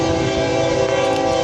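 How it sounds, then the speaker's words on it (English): A passing train sounds its horn loudly and close, a sustained multi-tone blare held throughout over low rumbling from the rail cars. "Sorry about the train, I'm sure you can hear."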